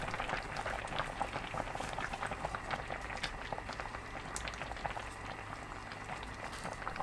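A pot of kimchi stew with dried pollock bubbling at a steady boil, dense popping and gurgling that stays fairly even and close, with no voices over it.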